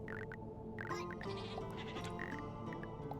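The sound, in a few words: goat bleating in the Gnomes tower defense video game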